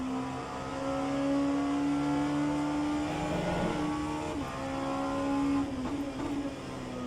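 LMP2 prototype race car engine in a sim racing game at Watkins Glen, a loud sustained drone holding steady, dipping and rising through gear changes as the car laps at speed, with no voices.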